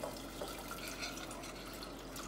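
Warm milk pours steadily into a roux in a pan, a continuous close liquid splashing and trickling with no pauses.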